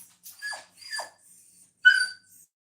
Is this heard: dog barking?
yes